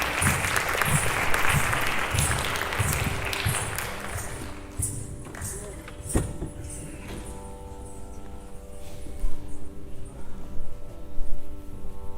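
An audience applauds after a Bharata Natyam dance arangetram, loud sustained clapping that thins out partway through, leaving scattered claps and a few stray sounds in a quieter room.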